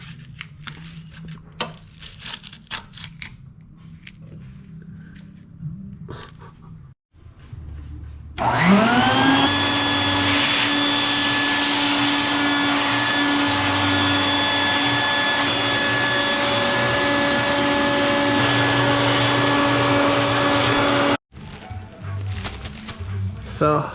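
Vacuum cleaner sucking loose dirt from a 30-year-old R32 Skyline GTR engine bay switches on with a rising whine and runs as a loud, steady drone for about twelve seconds before cutting off, with quieter handling noises and talk before and after.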